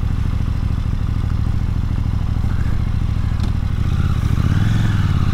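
A 2022 KTM 890 Duke GP with tech package runs close by, its engine a loud, steady, throbbing idle that swells slightly toward the end.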